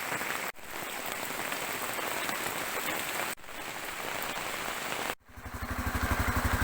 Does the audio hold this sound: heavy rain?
yes